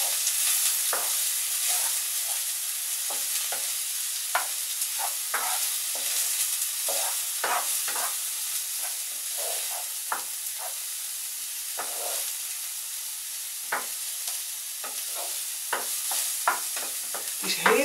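Broccoli rice frying in hot oil in a pan, a steady close sizzle with repeated scraping and stirring strokes across the pan throughout, no talking.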